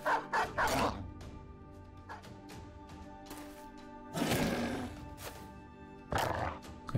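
Dogs barking in the video game Battle Brothers, several bursts of loud barks at the start, midway and near the end, over a steady low game ambience.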